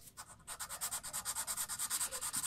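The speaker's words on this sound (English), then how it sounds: "And then with a little sanding board, little modelling board," A small sanding board rubs back and forth over a 2012 Toyota Supra Hot Wheels model car body in quick, even strokes, a close, soft scratchy rasp that repeats steadily and speeds up slightly.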